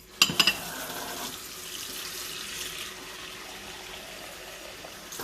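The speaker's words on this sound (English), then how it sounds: "So I'm going to get my measuring cup and grab me some more water." Water runs from a kitchen tap into a measuring cup, a steady broad hiss that follows a couple of sharp clinks at the start and keeps flowing evenly at close range without talk.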